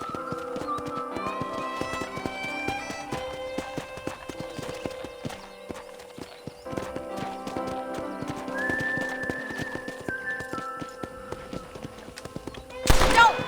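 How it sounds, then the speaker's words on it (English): Hooves of a horse clip-clop at a walk through a ranch in the Red Dead Redemption game, with soft rhythmic steps under a game music bed and a brief louder burst at the end. "I picked out a fine horse for you."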